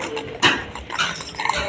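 A dog in a busy family outing during Eid gives a short whimpering yelp amid broadband background clatter and commotion, one brief burst standing out before the noise carries on.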